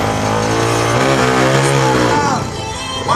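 Motorcycles at the start of a motor-gymkhana race rev loudly nearby, their engine tones rising and falling, with another engine pitch sweeping upward near the end.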